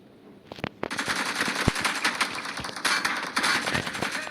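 Rapid automatic gunfire in the video game PUBG, a dense sustained burst of sharp rattling shots running for several seconds, loud and close with no talk over it.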